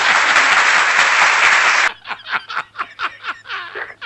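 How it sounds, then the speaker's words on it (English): Loud audience applause during a live Twitch stream, a dense burst of clapping lasting nearly two seconds, then cutting off abruptly into scattered laughter and chuckles. "Let me give him another roaring round of applause."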